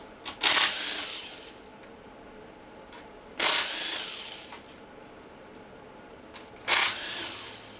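A power tool spins out the oil pan bolts of an L80E automatic transmission in three short, loud whirring bursts spaced a few seconds apart, close to the microphone, with quiet shuffling between them and no talking.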